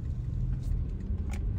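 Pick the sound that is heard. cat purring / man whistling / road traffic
road traffic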